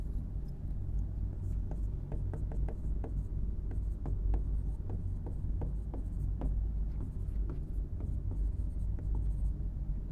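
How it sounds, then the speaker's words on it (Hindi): Marker or chalk strokes on a board during a lecture, quick scratchy scrapes in irregular bursts, close and moderately loud over a steady low hum. "मैं इसको यहां ऊपर लिख देता हूं।"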